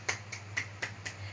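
A class claps in a classroom with five sharp, evenly spaced claps in unison, heard fairly faint over a low steady hum.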